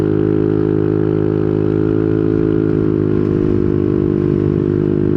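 A Yamaha Nmax scooter fitted with a 4S1M Street Core V3 muffler accelerates, its engine giving a loud, close, steady droning hum that climbs slightly in pitch, with no talking.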